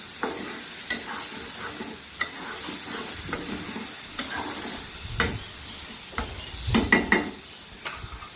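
Hilsa fish and taro stolons sautéed in a pan, with steady sizzling and frying under repeated stirring and scraping strokes, utensil clinks sharp against the metal at irregular intervals.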